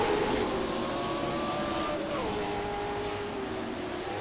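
Late model race cars roaring around Jefferson Speedway as the field goes back to green, a dense, loud engine wash with one pitch sliding downward as a car passes close.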